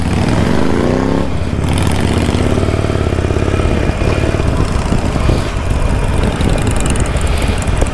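A Harley-Davidson motorcycle engine runs loud and close, a dense roaring rumble that rises in pitch early on and then holds steady.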